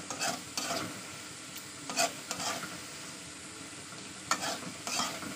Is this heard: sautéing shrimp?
yes